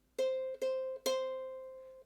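Three plucks of the bottom ukulele string in quick succession, clear and close, the last note ringing out for about a second.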